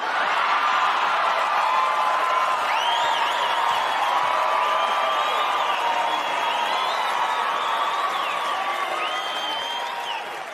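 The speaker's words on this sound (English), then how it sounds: "you guys are clapping and you're laughing because you know" A comedy club audience at a stand-up show claps steadily and laughs with scattered whoops, a dense continuous roar filling the room for about ten seconds, loud and close, easing slightly at the end.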